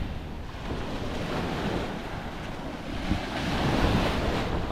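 Sea waves on a beach in Rhodes wash in continuously, a broad steady roar of surf mixed with wind buffeting the microphone, swelling slightly louder toward the end.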